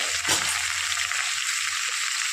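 Chopped pumpkin (dangar) frying in a pan with cumin: steady, bright close sizzling, with a soft clink or stir near the start.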